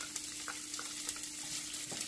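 Chopped onion sautés in hot oil as the base of a Puerto Rican sofrito for stewed salt cod. A steady close sizzle runs throughout, with light stirring scrapes and no talking.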